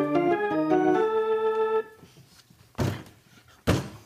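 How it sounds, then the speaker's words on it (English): Two heavy, separate thumps of a fist pounding on a table, close and loud, follow a fading stretch of music in an old-time radio mystery drama. "De Brill, stop pounding on the table and cursing Corvée."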